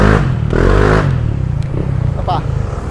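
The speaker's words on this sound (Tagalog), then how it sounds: "Pakinggan nyo yung tambucho." The exhaust of a Honda Click scooter with an upgraded CVT revs in a parking area in a few loud, rising bursts, then settles into a rougher, throbbing idle, with voices talking over parts of it.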